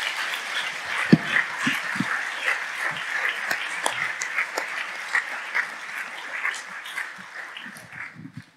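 A church congregation claps and applauds during a Portuguese-language worship service, a steady wash of clapping with sharper individual claps near and far, moderately loud and without clear talk over it.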